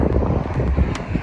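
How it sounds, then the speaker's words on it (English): Wind on the Saskatchewan prairies buffets the microphone, giving a loud, continuous low roar with gusty pulses and no voices. "It's very windy in the prairies."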